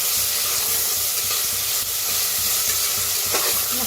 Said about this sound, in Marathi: छान भाजून हलवत छान भाजून घ्यायचं.